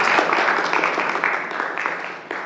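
Audience applause closing a lecture at a nanotechnology course, a steady dense wash of clapping from many hands that holds for the whole stretch and tapers slightly near the end.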